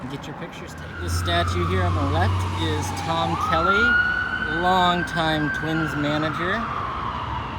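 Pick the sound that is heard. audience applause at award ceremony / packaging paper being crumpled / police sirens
police sirens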